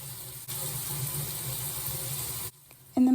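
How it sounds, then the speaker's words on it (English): Water from a tap pours through hair to soak it wet, a steady splashing gush that cuts off abruptly, leaves a short quiet gap, then starts again loudly at the end. "It's actually me trying to get my hair soaking wet"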